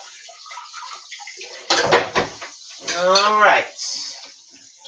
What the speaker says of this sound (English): Rinse this fork.